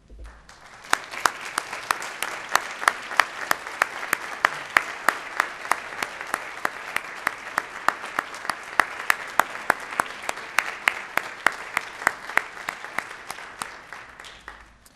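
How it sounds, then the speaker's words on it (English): Scattered claps ring out steadily for about fifteen seconds as a seated audience at the 2017 Gaithersburg State of the City event applauds standing volunteers, with individual sharp hand strikes distinct over a softer wash of clapping. "please stand and receive a round of applause"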